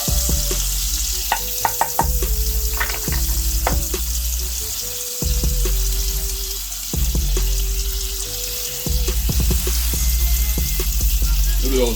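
Mushrooms and tomatoes fry in a pan for an Irish breakfast, giving a steady close sizzle with scattered pops and utensil clinks throughout.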